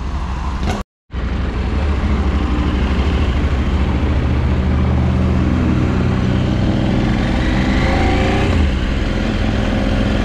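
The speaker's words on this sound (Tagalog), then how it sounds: "Kakaiba yung parallel niya, parallel twin na makina niya. Iba tunog." A KTM 790 parallel-twin motorcycle engine with its catalytic converter removed runs loud and steady close by, a deep throbbing idle with a slight rise in revs, briefly cut at the start.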